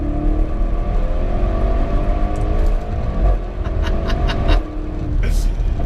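A Porsche Panamera Sport Turismo accelerating flat out, its engine a loud, steady roar that builds and holds, close up, with no talk over it.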